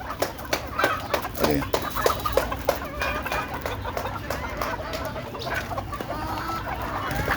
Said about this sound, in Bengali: এই যে দেখেন আমাদের শরণ ভাই মুরগিগুলো ছাড়তেছে।